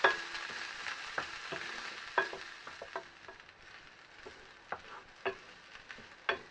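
Diced onion and a clove of garlic fry on medium heat, a soft steady sizzle broken by sharp ticks and scrapes as they are stirred in the pan.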